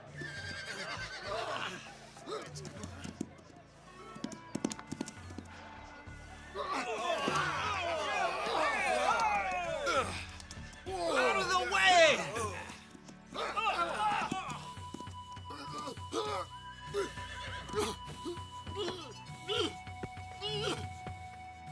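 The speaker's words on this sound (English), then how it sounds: "What's got into the horses? They've never acted like this. They're nervous." Nervous horses neigh and whinny repeatedly amid shouting voices and some hoof clatter, a loud, agitated scene with people calling out over the animals.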